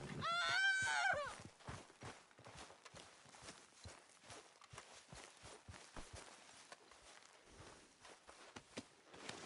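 A horse in Red Dead Redemption 2 gives a short whinny, then its hooves clop along in an uneven walking rhythm, fairly quiet and close, with no one talking.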